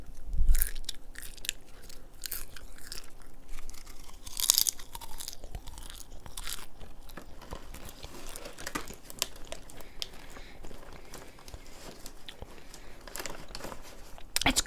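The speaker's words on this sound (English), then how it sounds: "Here, I'll crunch some popcorn for you guys." Popcorn crunched close to the microphone in a quiet indoor setting, with repeated crisp bites and chewing crackles throughout, mixed with faint rustling and a few louder snaps.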